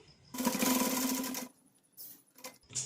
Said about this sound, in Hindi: वहाँ तक हमें ये बटन पट्टी को सिलते हुए ऊपर तक लाना है।